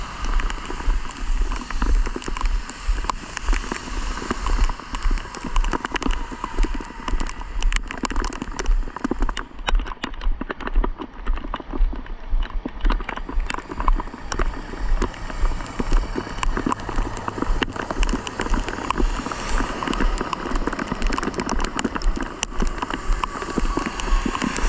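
Spring rain falls steadily at a semi-truck rollover scene, a dense continuous patter with scattered sharp drips and taps close by, no talking.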